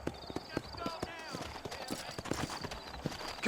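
Horse hooves clip-clop at a steady walking rhythm in the Red Dead Redemption video game, close and distinct, while characters talk over the hoofbeats.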